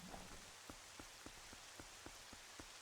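Rain falling in The Legend of Zelda: Twilight Princess, a steady hiss of drops with soft regular thumps spaced evenly through it, no talk.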